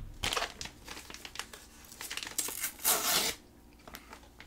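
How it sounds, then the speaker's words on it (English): A package being torn open by its rip tab, with crinkling and tearing of packaging across several seconds that swells into a louder rip near the end, close by with no talk. "Does this have, like, a rip tab?"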